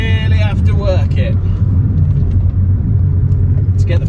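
A Volvo 850 estate with a 2-litre engine and manual gearbox is worked hard, its deep engine rumble droning steadily from inside the car while someone talks over it at the start.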